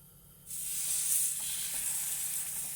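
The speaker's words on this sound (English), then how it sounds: "maybe 2 minutes on the side to get a good sear on it" Roast beef sears in very hot oil, a loud, steady sizzle that bursts in suddenly and holds with a bright hiss, close up and alone.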